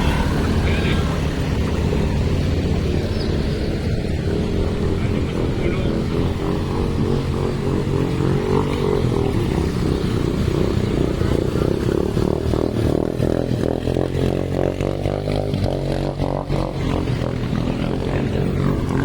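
A motorcycle pushing through floodwater on a street in Imus, Cavite, a loud steady engine drone with rough, uneven throttle and splashing clatter, continuous and close, with people talking over it.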